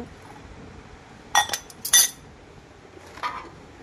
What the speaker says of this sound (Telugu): 2 స్పూన్స్, ఒక ఫోర్క్, 2 కప్స్,